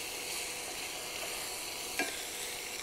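Breakfast skillet ingredients being stirred in a hot pan, a soft continuous sizzle with one brief scrape of the utensil partway through, quiet and close.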